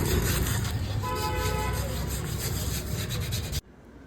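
Steady, harsh rubbing and rasping as a rusted motorcycle part is polished, loud and continuous for about three and a half seconds, then cutting off abruptly and leaving quiet background noise.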